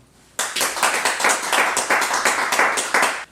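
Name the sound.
applause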